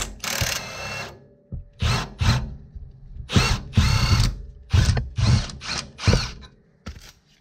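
A power tool on a Honda CRX removes 17 mm suspension bolts, firing in short loud whirring bursts of about half a second each with brief pauses between them, close up.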